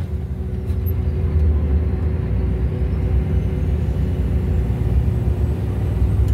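A truck engine runs steadily at low revs as the driver presses the clutch and lets off the accelerator, giving a continuous close rumble with a deep hum and no speech.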